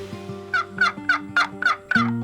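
A turkey call sounds out six short, sharp gobbles in a steady rhythm, loud and close over a lower sustained tone.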